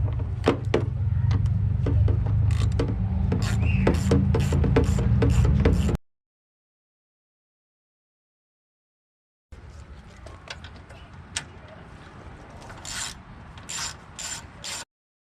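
A 10mm wrench working headlight bolts loose on a car: quick ratcheting clicks over a low rumble, close by, then a few seconds of silence before fainter clicking and rubbing resume.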